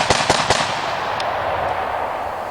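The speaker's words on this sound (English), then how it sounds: "So let's take a few quick shots and just let you look at it in recoil." Rifle shots at an outdoor shooting range on a ranch: three sharp, loud reports fired in quick succession at the start, then a few faint distant pops over steady open-air background.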